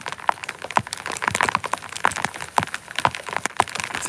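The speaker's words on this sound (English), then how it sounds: "It's hailing." Hailstones fall and pelt a hard surface outdoors, a steady dense patter punctuated by sharp, loud cracks of larger stones hitting nearby, with no talking.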